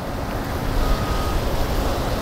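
Steady outdoor wind rushes and buffets the microphone at a fishing spot by open water, a continuous broadband roar with low gusty rumble and no talking.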